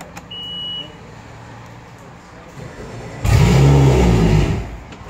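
A boat or watercraft engine started with the ignition key, a faint beep at first, then a loud low rumble cutting in about two thirds through and running steadily close by before easing slightly.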